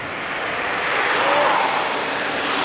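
Dualtron electric scooters zip past, making a steady broadband whoosh with a faint rising motor whine that peaks midway, close and fairly loud, with no voices.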